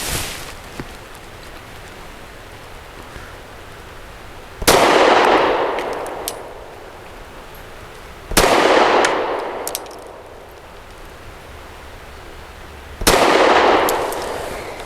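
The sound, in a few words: pistol shots from Zev OZ9C with steel-cased ammo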